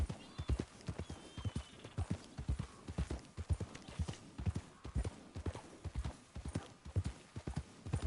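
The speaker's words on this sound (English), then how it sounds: "Wild horses." Steady clip-clop of wild horse hooves at a brisk trot in Red Dead Redemption 2, loud and close, with a faint whinny and low rumbling in the background.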